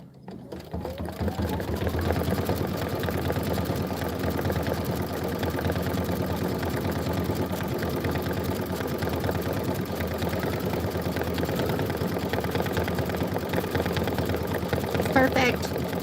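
A Kimberbell embroidery machine stitches a decorative border, a rapid steady mechanical whir running nonstop at close range after a brief start, with a voice speaking over it.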